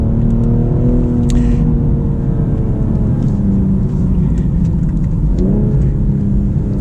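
A BMW M240i xDrive engine hums loudly from inside the cabin, a steady low drone with rising and falling tones as it revs through gear changes.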